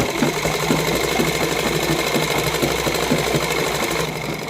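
An electric sewing machine stitches the inner lining onto a heavily hand-embroidered suit, a fast, steady, close mechanical rattle that runs without pause and eases slightly at the end.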